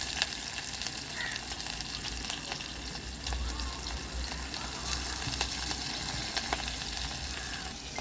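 Chopped white onions fry in oil in a pan for coconut rice, giving a steady, dense sizzle that runs the whole time at an even level, close by and with no talking.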